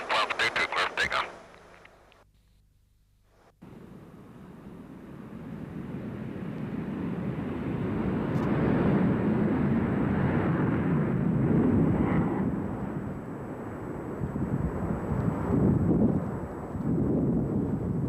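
An F-15 Eagle fighter jet takes off from a runway: a brief burst of noise, a near-silent gap, then a loud, steady broadband roar that builds and stays strong to the end.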